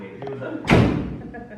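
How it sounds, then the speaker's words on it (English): A heavy door slams shut with one loud, booming thud that decays slowly, preceded by quieter background sounds. "a very heavy door slam"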